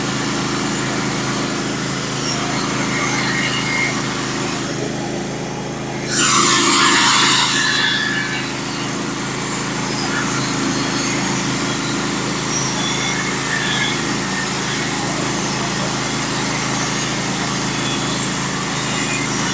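A Norwood HD36v2 portable sawmill cuts wide 5/4 black oak floor boards, its small engine droning steadily throughout with a brief louder, brighter burst partway as the blade works the log.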